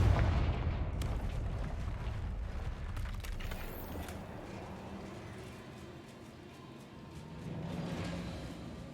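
Fiery Confringo spell blast in a wizard video game, a deep rumbling boom with crackling debris that fades into a low lingering roar, then swells briefly again near the end; no talk over it.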